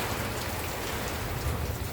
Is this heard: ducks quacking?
no